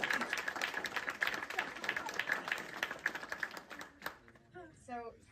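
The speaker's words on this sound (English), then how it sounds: "So one last round of applause for Mr. Tommy." Audience applause for a volunteer of the year at a Rolls-Royce Foundation volunteer day, brisk indoor clapping from a modest crowd for about four seconds before it stops abruptly and a voice speaks.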